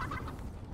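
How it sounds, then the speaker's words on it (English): Short burst of in-game chicken clucking and gobbling from Fortnite, close and fairly loud with a rapid warbling rhythm over its brief length. "Killing the chickens"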